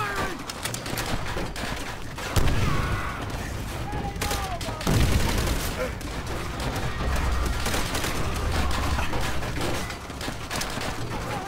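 Sustained gunfire in Call of Duty: World at War at Shuri Castle, with dense overlapping rifle and machine-gun bursts throughout, two heavier booming blasts standing out, and a voice shouting faintly among the battle noise.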